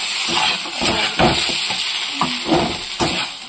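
Food frying and being stirred in a pan, a close, loud sizzle broken by repeated scraping and stirring strokes at an uneven rhythm.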